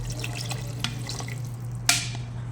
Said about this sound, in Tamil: இந்த டைமில் நீங்கள் தண்ணி ஊற்றிடலாம்.